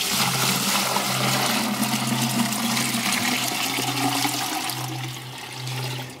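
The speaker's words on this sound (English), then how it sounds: "now I'm gonna fill the bucket with water" Water gushes steadily into a 5 gallon bucket, a dense rushing splash with a low hum underneath, close and loud throughout before easing slightly near the end.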